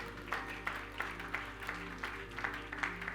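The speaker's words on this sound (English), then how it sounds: "Clap your hands for the Lord." A church congregation claps hands for the Lord, a loose rhythmic run of about a dozen claps repeating in steady beats over a low constant hum, fairly faint and distant.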